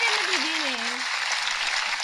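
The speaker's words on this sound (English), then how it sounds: "Let's give a round of applause to me for calling it" A round of applause during a casual group talk show, a continuous crowd-style clapping wash with a voice briefly sounding over its opening second.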